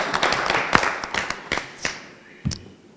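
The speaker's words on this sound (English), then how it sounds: "Please clap for Sarah" At a business expo breakfast meeting, the audience gives a short round of scattered handclaps that thins out to a few isolated claps within three seconds.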